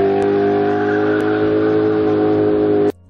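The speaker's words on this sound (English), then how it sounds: "with the exhaust note this thing has, you probably won't be complaining." A loud, deep BMW E39 M5 exhaust drones steadily with a rich rumbling tone at constant revs, close up, before stopping abruptly.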